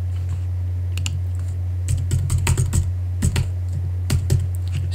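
Fingers typing a password on a computer keyboard nearby, crisp key clicks coming in short irregular bursts over a steady low electrical hum.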